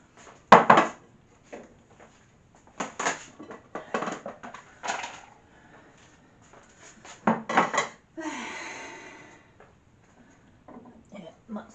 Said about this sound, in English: So I'll plate this up now.